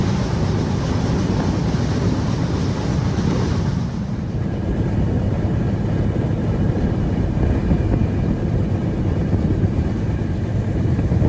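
The Ruposhi Bangla Express running from Dhaka to Jashore, a continuous loud rumble and rushing wind from the moving train, a little brighter and breezier at first, then settling into a steady roar with no voices.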